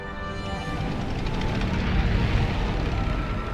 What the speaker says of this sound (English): Airplane going across.